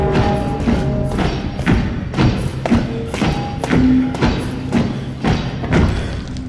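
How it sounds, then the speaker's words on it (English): Marching footsteps from Minecraft's music disc 5: a steady run of heavy, muffled thuds, roughly one to two per second, with a low hum beneath them. The steps are moderately loud and there is no talk. "It starts with marching sounds"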